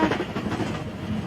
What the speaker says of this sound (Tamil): ட்ரெயின் போச்சு.